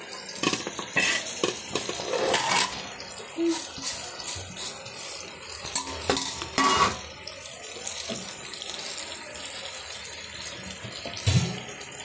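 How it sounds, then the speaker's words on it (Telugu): Fish pieces tipped into a pan of fried onion masala for fish curry, with a run of wet clattering and splashy clinks over about twelve seconds, close and fairly loud, with no talking. "ఇప్పుడు ఇదిగోండి, మనం పెట్టుకున్నాం కదా ఇక్కడ చేప ముక్కలు, ఇవన్నీ వేసేస్తున్నాను"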